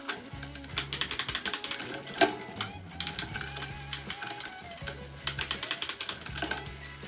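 Bicycle derailleur being shifted back and forth through the gears after adjustment, a quick series of close mechanical clicks and ratcheting ticks over a whirring drivetrain, repeated in bursts.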